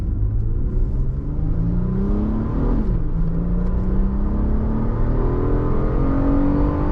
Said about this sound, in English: Hear that VTEC, and this thing pulls like crazy.